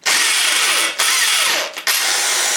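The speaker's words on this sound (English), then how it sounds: "So drill them out a bit bigger first." Power drill boring out rivets on a Triumph's heat shields, running in steady high-pitched whine bursts with two brief pauses between them, close up.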